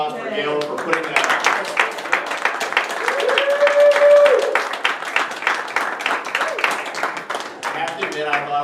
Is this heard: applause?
yes